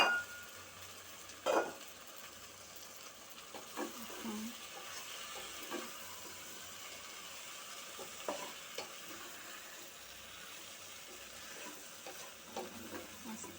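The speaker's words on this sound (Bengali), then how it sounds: "আস্তে এভাবে নাড়তে থাকবো যেন টমেটো সস টমেটো সিদ্ধ যেটা করেছিলাম সেটা যেন পাস্তার সাথে" Pasta is stirred into tomato sauce in a pan, soft wet scraping and occasional light clinks over a low, quiet sizzle, heard close and alone.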